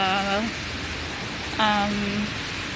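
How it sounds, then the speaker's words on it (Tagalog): Heavy rain falls in an outdoor park in Singapore as a dense, steady hiss, with a voice speaking briefly over it twice. "ang lakas ng ulan, which is hindi ako makapag-vlog"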